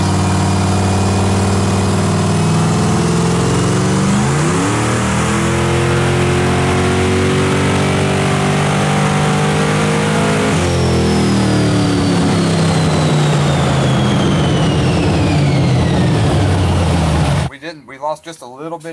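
A barn-find Pontiac V8 fitted with new carburetor jets revs hard and loud, rising and falling through high RPM in long sweeps before dropping off sharply at the end.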